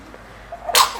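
A single sharp sneeze bursts out near the end, loud and close after a quiet lead-in.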